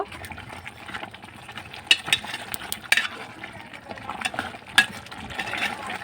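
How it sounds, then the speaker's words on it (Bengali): Meat and coconut are stir-fried in a pan. A spoon scrapes and clatters unevenly over a soft, low sizzle, with a few sharper knocks against the pan. "নারিকেলগুলো দিয়ে আমি ভালো করে আর একটু কষিয়ে নিব"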